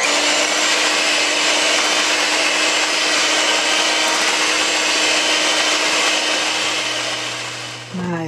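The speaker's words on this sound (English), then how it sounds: "And now I'm gonna beat it until it's light and fluffy." Electric mixer beating unsalted butter and granulated sugar for cake batter, a loud continuous whirring drone that holds steady for about seven seconds, then slows and stops near the end.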